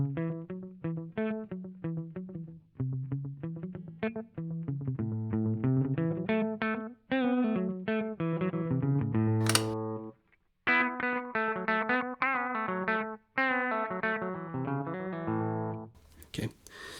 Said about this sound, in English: if we speed the time all the way up, we get into that kind of slapback